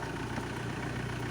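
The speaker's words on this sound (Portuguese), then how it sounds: "e o vidro fecha" An Alfa Romeo 155 power window motor, wired straight to the battery, closes the window with a steady, continuous whirring hum that holds at an even level throughout.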